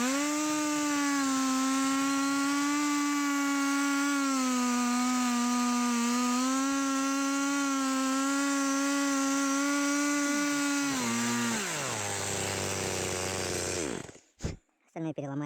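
A chainsaw cutting wood on a taiga track runs loud and steady at close range for about eleven seconds, then its engine winds down to idle and cuts off near the end.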